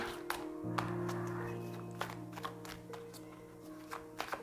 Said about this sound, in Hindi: सो एक और बार शफल करूँ।